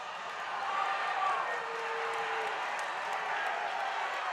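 Basketball crowd of Thunderhawks fans at a men's varsity high school game, a steady indoor murmur of many voices with a slight swell partway through, talk mixed in throughout.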